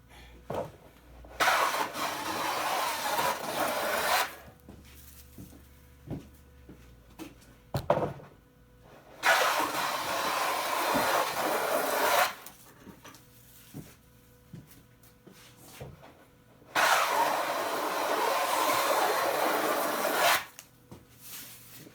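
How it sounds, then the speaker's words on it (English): A hand plane edge-joints a wooden board in three long rasping strokes, each a couple of seconds or more, close up, with small knocks and clicks in the pauses between passes. "Right now it's taking a full shaving, so the board should be pretty straight."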